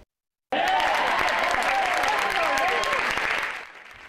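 A crowd of basketball fans at a Belmont team watch party bursts into loud applause and cheering after a short silence, with whoops and clapping sustained before fading slightly at the end.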